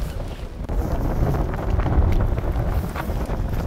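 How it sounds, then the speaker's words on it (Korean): Strong, sharp mountain wind on the snowy ridge to Birobong peak, Sobaeksan, roars and buffets loudly against the microphone in steady gusts, a rough, continuous rush with no other sounds. "바람 소리는 날카롭고 요란하고"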